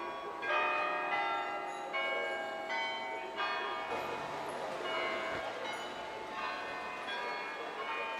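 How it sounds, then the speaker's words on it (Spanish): Church bells in Amsterdam ring out in a steady sequence of overlapping metallic strikes every second or so, fairly close and clear over a light street background. "Pero sí escuchamos las campanas."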